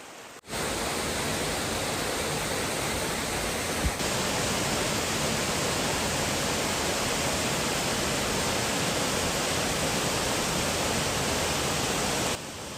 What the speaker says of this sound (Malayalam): ശുദ്ധമായ തണുത്ത ജലം ശബ്ദത്തോടെ പാറകൾക്ക് മുകളിലൂടെ ഒഴുകുന്ന മനോഹര ദൃശ്യം സഞ്ചാരികളെ ആകർഷിക്കുന്നു.